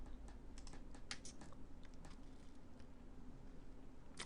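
Quiet typing on a computer keyboard, light irregular keystroke clicks arriving in short bursts with brief pauses between them, close and soft over a low background hum.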